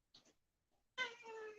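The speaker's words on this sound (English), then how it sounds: "This is our middle cat, Socks." A house cat meows indoors: a short faint chirp, then after a pause a longer, louder drawn-out meow, close by with no talking.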